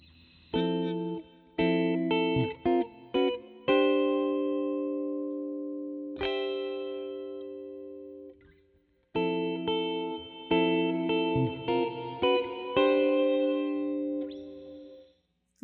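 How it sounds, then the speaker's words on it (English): Guitar notes run through a Red Panda Context V2 pedal set to ducking reverb, with chords and single notes played in bursts, the reverb tail swelling when playing stops and dropping back under each new phrase. "Left is a ducking reverb."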